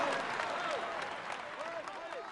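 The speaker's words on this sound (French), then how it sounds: "Allez, on l'applaudit encore." Crowd applause for Alberto Contador at a Tour de France stage ceremony, steady distant clapping with a voice talking over it throughout.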